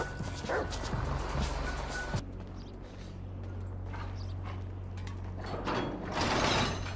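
Dog barking and yipping in the GTA 5 video game, a steady run of barks over a low engine-like drone and game noise, fairly close and loud throughout.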